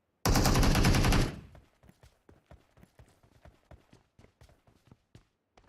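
Gunfire in the video game PUBG: a loud, dense burst of rapid shots lasting about a second, followed by a quieter, steady series of sharp clicks and thuds spaced roughly evenly until the end.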